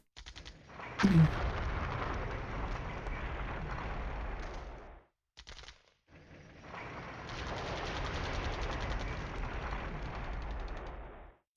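Sustained machine-gun bursts in the tactical war game Flashpoint Campaigns: Southern Storm, opening with a heavy crack, then rattling for several seconds, a brief pause, a short stutter of shots, and another long continuous volley.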